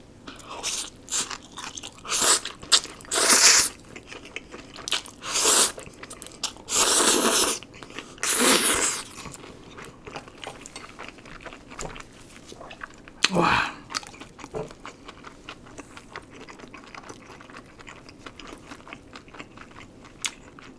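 Crunchy fried squid and sausage topping being bitten and chewed close up, a series of loud crisp crunches in clusters over the first half, then quieter chewing with one more sharp bite later.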